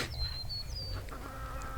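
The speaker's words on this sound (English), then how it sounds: "A lot of squeals and stuff with my chickens lately" Chickens give brief, faint high squeals over a low background rumble on a small farm flock.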